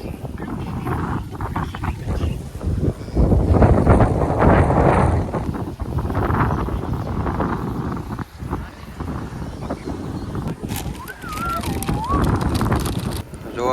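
Wind buffets the microphone in low, rumbling gusts at Malnath Mahadev near Bhavnagar, Gujarat, with voices talking now and then under the blustery roar.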